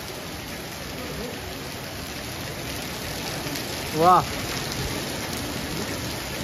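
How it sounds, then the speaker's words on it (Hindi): Heavy seasonal downpour hisses steadily and evenly all around, a dense wash of rain with no letup, while a man briefly exclaims in delight partway through. "वाह यार क्या बरसात हो रही है।"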